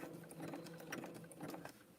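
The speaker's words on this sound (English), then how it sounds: "I have a baby lock sewing machine." A Baby Lock sewing machine fitted with a size 14 needle stitches a rope coaster, giving off a steady, fairly quiet mechanical whir with a rapid needle rhythm throughout and no talking.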